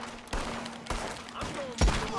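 Gunfire in Red Dead Redemption 2: several sharp shots ring out about half a second apart, the last one loudest and nearest, over a steady game hum.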